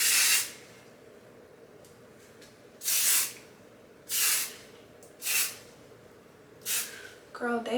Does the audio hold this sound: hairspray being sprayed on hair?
yes